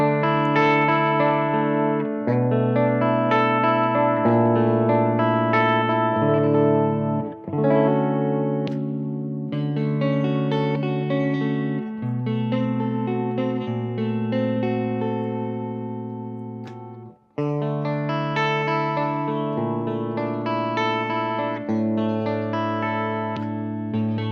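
A distorted electric guitar with Suhr Thornbucker+ humbucker pickups plays sustained chords with effects and reverb, loud and unaccompanied, with two brief pauses.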